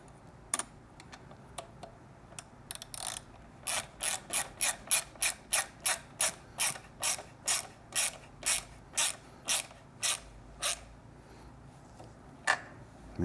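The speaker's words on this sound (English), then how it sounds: "Your 6mm and your 12mm wrench." Ratcheting 6mm and 12mm wrenches tighten a nut on an aftermarket Shorty Predator Pro exhaust for a Triumph Street Twin motorcycle, a run of close, crisp, evenly paced clicks that starts sparse and becomes a steady rhythm.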